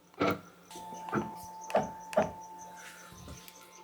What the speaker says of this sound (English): We're just going to jog our machine and we're going to eyeball it to where it's exactly on this bottom left